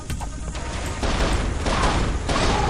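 Dual-wielded shotguns in the first-person shooter Area 51 fire several loud, close blasts at roughly half-second intervals amid continuous crashing combat noise.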